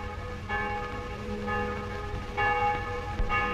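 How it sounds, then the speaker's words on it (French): Church bells ring out in a steady sequence of struck tones, several distinct strikes with long humming decay overlapping, heard fairly close against a constant background murmur. "Et je ne vous parle pas des cloches."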